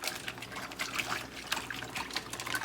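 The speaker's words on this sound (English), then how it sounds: "you put your sugar and your water in your bag" Water pours and trickles into a plastic bag already holding sugar, a steady close liquid splash with faint background noise, no talking.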